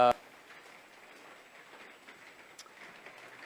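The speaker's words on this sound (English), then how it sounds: "The wonderful rain out here, we're outdoors" Steady light rain falling outdoors, a soft continuous patter and hiss with occasional faint drip ticks, low in level after a brief voice fragment at the start.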